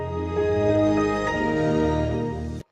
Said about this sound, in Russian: почему это звук запуска Windows XP?